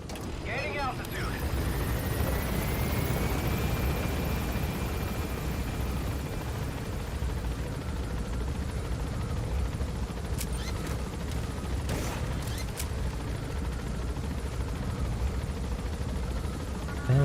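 Helicopter in the video game Metal Gear Solid V: The Phantom Pain, a steady rotor and engine roar running throughout, with short sharp bursts of impact noise near the end.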